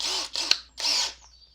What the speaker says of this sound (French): on va prendre le rivet, on va le mettre sur une visseuse